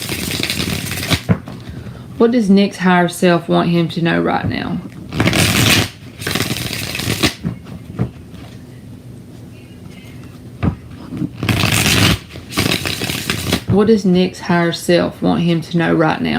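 Tarot cards are shuffled in several sharp, riffling bursts up close, while someone speaks between and over the shuffles.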